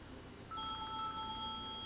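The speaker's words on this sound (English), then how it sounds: "Also, my phone is going off." A mobile phone ringtone, a soft electronic melody of bright tones starting abruptly and continuing steadily over a low background hum, faint and somewhat distant.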